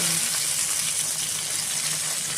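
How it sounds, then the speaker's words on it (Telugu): Brinjal (eggplant) pieces frying in hot oil in a pan give a steady, close, dense sizzle that holds evenly throughout, with no talk over it. "వంకాయ వేగిపోయిందండి"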